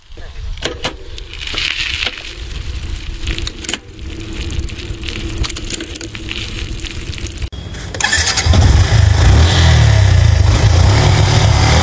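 A motorbike engine cranks and fires with sputtering, then settles into a loud, rough running roar close by.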